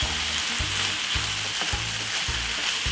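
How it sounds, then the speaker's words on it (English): Corned beef and vegetables with ketchup sizzle steadily in a pot, with rhythmic low scraping strokes of a spoon stirring about every half second, close and loud, no talking. "Give it a stir."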